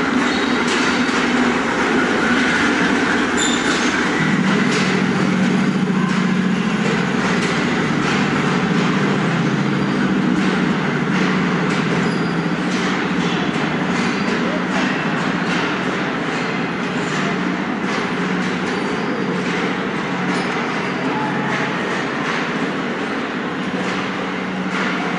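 A train pulling into Lahore Railway Station in Pakistan, with a steady, loud rumble of rolling wagons and engine drone throughout, joined by faint clanking and the broad noise of the busy platform.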